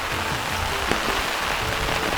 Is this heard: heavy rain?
yes